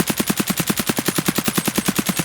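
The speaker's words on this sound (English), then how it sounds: "a little bit harder to shoot any full auto gun while strafing this wipe" An AKM rifle in the video game Escape from Tarkov fires full-auto while the player strafes, a fast, even string of about a dozen sharp, loud shots with no pauses.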